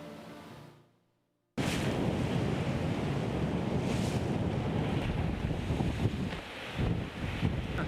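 On board a Volvo Ocean Race yacht in a 12-knot breeze, heavy wind buffeting and rushing waves roar steadily and close after a brief, quiet start.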